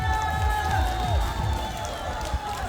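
Audience applause for a team at a health-promotion exercise contest in Wando, South Korea: steady crowd clapping and cheering that holds through, with a voice heard over it and music-like tones in the background.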